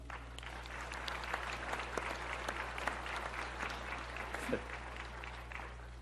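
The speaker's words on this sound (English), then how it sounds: "can I please get one more round of applause?" A round of applause from the audience at a university athletics hall of fame ceremony, a faint, steady spread of clapping heard at a distance over a low hum.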